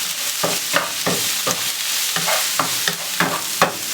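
Salmon for escoveitch fish sautés in a hot pan while a utensil stirs and scrapes it. Crisp sizzling runs underneath, broken by regular, close stirring knocks, with no voices.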